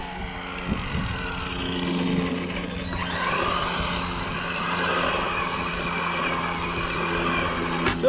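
An Arrma Infraction RC car drives and spins donuts, its electric motor whining up and down in pitch while the tires scrub and rattle. Fairly close, moderately loud, no talking.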